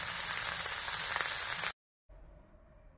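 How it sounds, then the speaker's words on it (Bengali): Giant freshwater prawns (golda chingri) frying in a pan, a loud close sizzle that cuts out abruptly, then resumes much quieter and lower, as if the prawns were turned over. "এইভাবে লাল লাল করে এপাশ ওপাশ করে ভেজে নিতে হবে"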